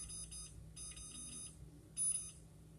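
Kitchen timer beeping in short electronic bursts as it is set for cooking pasta in a Crock-Pot, three clustered beep groups close by with no talk.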